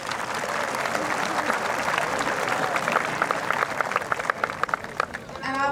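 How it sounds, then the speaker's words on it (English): Sustained applause from a large audience at a high school graduation ceremony, a dense steady wash of clapping that runs throughout, with a few sharper individual claps standing out near the end. "If you could give them a round of applause,"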